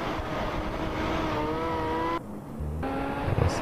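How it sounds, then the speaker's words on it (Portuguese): A Jaguar XJ6 in a GTA game revs hard, its engine tone climbing steadily through the gears, dropping briefly at a shift before rising again, loud and continuous with no talking over it. "Vou acelerar a XJ."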